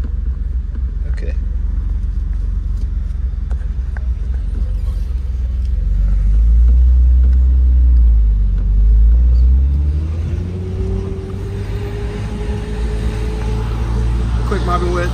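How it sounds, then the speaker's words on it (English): BMW M5 driving, a steady low engine rumble from inside the car that swells around the middle with some acceleration and then settles, with people talking over it. "That's a quick little M5 drive."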